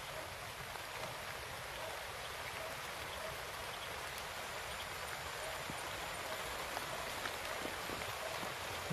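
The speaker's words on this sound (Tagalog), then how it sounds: "Siguro tol, isilong muna siguro tayo dahil napakalakas ng ulan." Heavy rain falls steadily on surfaces nearby, a dense, even hiss with scattered drop impacts, continuous throughout and without talk.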